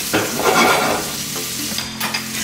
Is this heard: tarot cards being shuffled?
no